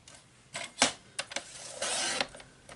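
Card stock sliced on a paper trimmer: several short, sharp cutting strokes and clacks, then a longer rasping slide, close and fairly quiet with no talking.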